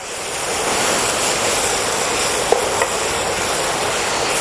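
Pumpkin curry with tomatoes being stirred in a pan, a steady close sizzling hiss with soft scraping of the spoon throughout and a couple of brief clinks near the middle.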